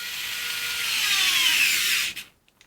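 A Craftsman 4V MAX cordless screwdriver whirs steadily for about two seconds under load in a torque test, then cuts off abruptly, close and clear.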